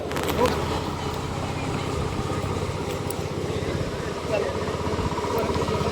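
Steady drone of a small rice transplanting machine engine running nearby, constant and throbbing, with a person talking over it.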